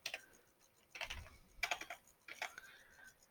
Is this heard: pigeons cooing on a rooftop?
no